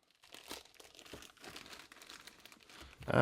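Packaging around a titanium wristwatch being ripped open by hand, a steady run of crinkling and tearing close by, ending in a louder crunch.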